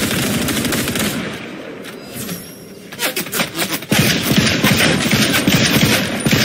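Rapid bursts of automatic gunfire in the video game Fortnite, loud and continuous, with a brief lull midway before the firing resumes even more densely.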